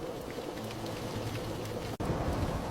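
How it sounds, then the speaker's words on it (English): Steady rain falls as a dense, even hiss with a soft patter, continuous and fairly close, broken only by one instant dropout near the end. "It is raining."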